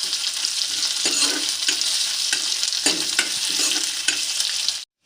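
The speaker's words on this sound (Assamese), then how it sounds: "এতিয়া আমি পিঁয়াজখিনি অলপ ৰঙচুৱা হোৱালৈকে ভাজিম।" Chopped onions fry in hot oil in a pan, giving a steady, close sizzle broken by the scrape of repeated stirring. The sizzle runs alone, with no talk, and cuts off suddenly at the end.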